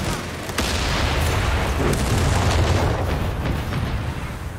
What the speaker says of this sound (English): Even after the nerfs, the airburst still pretty solid on that US mortar.